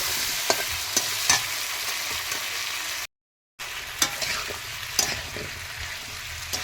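Potatoes being stirred and fried in a pan for a mustard-oil potato dish, with steady close sizzling and scraping strokes, broken by a brief silent gap midway.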